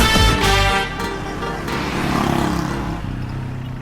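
A car driving along, its engine humming steadily up close after a brief louder burst and a few knocks at the start, with no talking.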